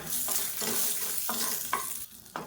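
Asafoetida, garlic and onion frying in a pan for chutney, a close crackling sizzle broken by a few sharp stirring scrapes, with no voices.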